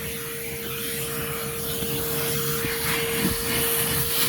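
A Ridgid dual 18-volt HD0918 vacuum runs with a steady whine and broad airy hiss, continuous and close for the whole stretch.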